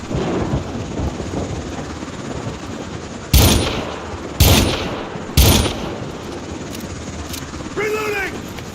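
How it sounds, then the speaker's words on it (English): Gunfire and a helicopter in the video game Syndicate: three loud, sharp, evenly spaced gunshots stand out over a constant rotor-like drone, with someone talking through it. "This is the helicopter that we can see bad guys come out of, but we can't get to."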